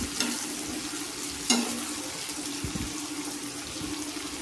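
Onions sizzle steadily as they are sautéed over medium flame for kothu parotta, a continuous hiss with a few scrapes and knocks of the spatula against the pan.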